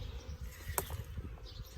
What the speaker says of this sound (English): So there's bees swarming all around us